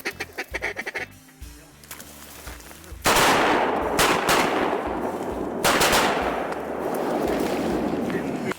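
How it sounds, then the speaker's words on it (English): Duck hunters fire at mallards, gadwalls and teal over decoys on the water, a loud rapid volley of close shotgun blasts overlapping in bursts, after a quieter stretch with a few quacks and wing noise. "We shot at the same ducks at the same time."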